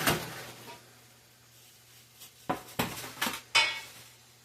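Metal pans clank and knock several times in quick succession, a few sharp hits near the end, over a low steady hum in a quiet kitchen.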